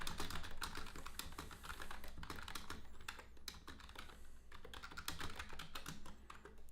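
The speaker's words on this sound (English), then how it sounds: "ASMR typing." Steady, rapid typing on a computer keyboard, fairly close and continuous, with irregular clusters of key clicks and no voices.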